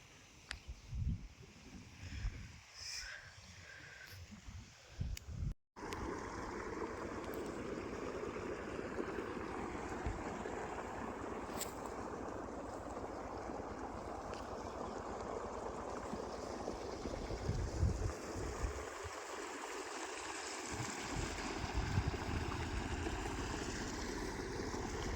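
Water from an irrigation pump motor flowing into a field channel, a steady broadband rush and gurgle that continues unbroken for the whole span, with a brief dropout early on and no talking.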